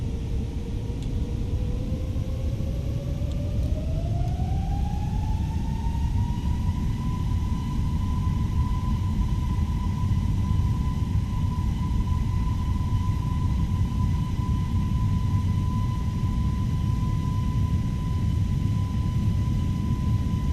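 An Airbus A321neo's jet engines spool up during a takeoff roll in a flight simulator, a steady loud rumble with a rising whine that settles into a sustained high tone, with no talk.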